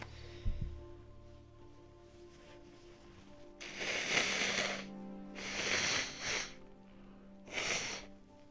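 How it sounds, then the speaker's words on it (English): Someone blows their nose close up in three loud, rough bursts, each lasting about a second, after a quiet stretch. "Sorry, I gotta blow my nose."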